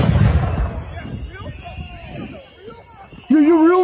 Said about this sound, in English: there's a flash grenade of peace